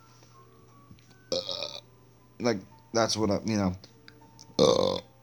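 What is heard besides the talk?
burp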